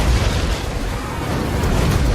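A trebuchet is blown apart in a Total War: Warhammer battle between Bretonnia and Dwarfs and Imperial Chaos Cult forces, a dense roar of explosions and battle rumble running steadily throughout with no pauses.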